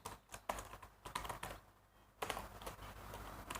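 Typing on a computer keyboard sounds as quick, faint clicking keystrokes in short irregular bursts with a brief pause in the middle, close and quiet, without speech.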